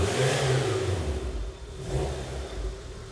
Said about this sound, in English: Peter, go ahead, give it some throttle.